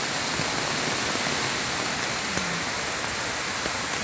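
A big river in Santa Rosa, Laguna rushes past as a loud, dense, continuous roar of flowing water with no pauses.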